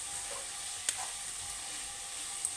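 Bitter gourd (kakarakaya) sizzles steadily in a pan, a faint continuous frying hiss with a couple of brief clinks from stirring.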